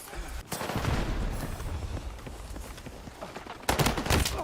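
Sustained automatic gunfire from a Battlefield 6 beta match, dense rapid bursts close and loud across the whole stretch with a brief gap near the start and a heavier volley at the end.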